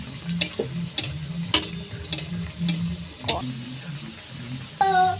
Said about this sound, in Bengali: যাতে উপর দিকটাও ভাজা হয়ে যায়